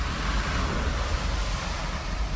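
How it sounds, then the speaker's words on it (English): An overflowing river floods across a road, a steady broadband rush of moving water with some wind buffeting, continuous and fairly loud throughout with no talk. "So the river is overflowing the road."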